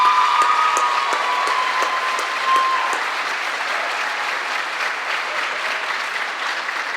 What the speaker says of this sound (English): can we please give a round of applause for Corinne Jackson and all of that?